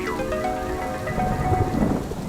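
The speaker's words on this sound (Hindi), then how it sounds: "और बारिश भी जोरों से होने लगती है।" Heavy rain pours steadily with a low thunder rumble rolling underneath, dense and continuous throughout.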